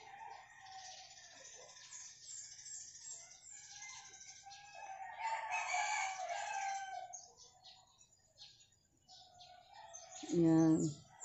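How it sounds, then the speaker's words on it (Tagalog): A red rooster crows once near the end, loud and close, after a stretch of morning bird chirps and tweets with a person talking over them. "Meron pa kaming manok na pula. Laging tumitilaok."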